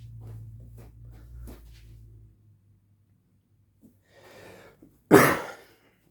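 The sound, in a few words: coughing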